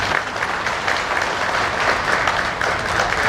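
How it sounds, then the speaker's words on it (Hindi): Congregation at a church jubilee celebration in Ranchi breaks into steady, dense clapping that fills the hall, a continuous wash of many hands with no talk over it. "ताली बजाएंगे।"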